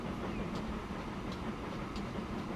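Trains in Transport Fever 2 roll on rails with a continuous low rumble and faint rhythmic clatter, steady and fairly close.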